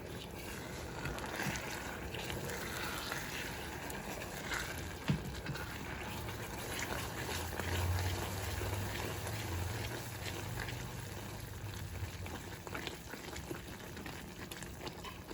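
Caramel sauce made with Crown Royal simmers and bubbles in a pot while being stirred, a faint, steady, low fizzing and churning with no talk over it.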